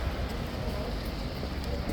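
Horses' hooves clip-clop on cobbles at a guard event, a steady busy patter under crowd noise and general bustle throughout.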